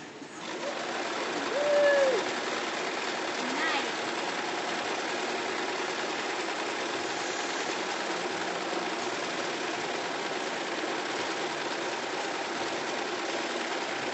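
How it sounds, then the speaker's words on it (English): A sewing machine runs steadily while a child sews at a kids' fashion education class, a continuous even motor whir held for the whole stretch, moderately loud with no pauses. "You go ahead and put your foot under there. Is this going to be your first time sewing?"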